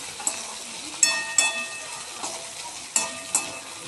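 Green chillies and garlic sauté in a pan for a chilli-garlic thecha, a soft steady sizzle broken by several sharp scraping stirs of a spatula, close up with no voices.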